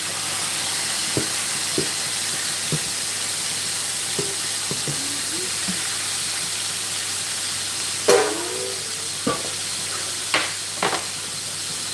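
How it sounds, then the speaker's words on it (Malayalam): Fish laid into a hot frying pan: a steady loud hiss and sizzle throughout, broken by a few light clinks and scrapes, with a brief splattering flare partway through. "ഇതാ അടുത്ത മീൻ ഇടാൻ പോകുന്നു."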